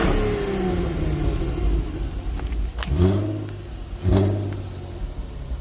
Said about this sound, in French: On va faire un petit démarrage. Les puristes vont reconnaître tout de suite la sonorité.